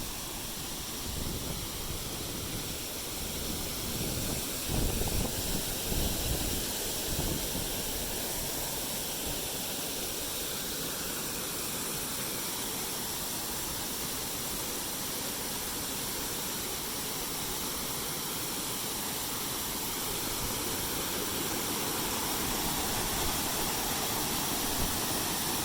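Wahkeena Falls in Oregon thunders as a continuous broad rushing roar of falling water, steady and enveloping, heard up close with no voices.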